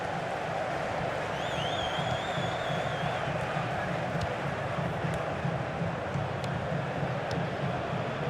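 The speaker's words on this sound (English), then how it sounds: "Great passing, and the crowd really enjoying it." A football stadium crowd at a Champions League quarter-final gives a continuous distant roar and murmur, with faint whistles rising above it.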